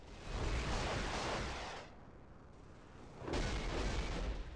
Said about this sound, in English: Outgoing missile.